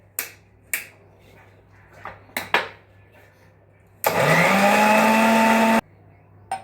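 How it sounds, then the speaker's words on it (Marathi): An old electric mixer grinder runs in a home kitchen. A few sharp clicks and knocks come first, then a loud whirring burst rises in pitch and holds for under two seconds before cutting off abruptly. "आणि आता छान मी फिरवून घेते मिक्सरला."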